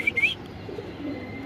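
A male pigeon calls faintly, with soft low cooing under quiet background noise. Two brief high chirps come from other birds at the start.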